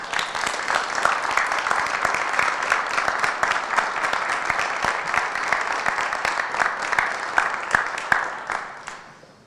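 Sustained applause from the audience at a school board of education public meeting, steady and dense throughout before fading out at the close.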